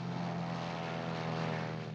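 A de Havilland Heron, a small four-engine propeller liaison airliner, drones steadily with a sustained engine hum and propeller tone that stays constant and fairly distant throughout, with no voices.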